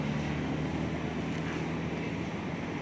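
A modified Yamaha F1ZR motorcycle runs with an RXZ reed membrane fitted and a head re-machined to match the piston diameter. The engine holds a steady, close idle with a low, even hum and no talking.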